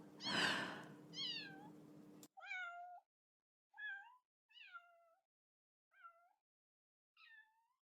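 A kitten meows repeatedly in an audio drama: after a loud burst of cat cries, five short, clear mews follow at spaced intervals, close and alone.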